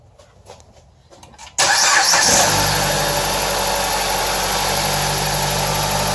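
A car engine cranks briefly after a few quiet knocks, catches with a loud rise, then settles into a steady idle after its spark plugs were checked and refitted.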